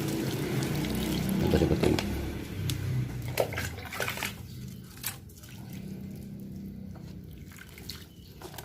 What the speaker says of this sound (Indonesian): Dilakukan penyiraman, langsung siram.